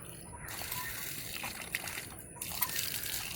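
Muddy, refrigerator-cold water flows steadily from a temporary pump hookup, a continuous splashing rush with a few brief spikes, heard close up.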